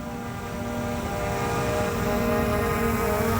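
A drone flies and rotates in the air, its rotors giving off a steady, loud, even buzzing hum with constant tonal whine and no pauses throughout.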